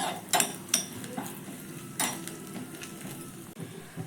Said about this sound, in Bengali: এবার প্রথমে নারকেলটাকে একটু নাড়াচাড়া করে ভেজে নেব।